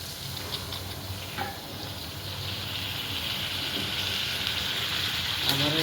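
Mutton curry being stirred in a hot pan just after water is added, giving a continuous close sizzling and bubbling hiss with scraping stirs that grows slightly louder toward the end.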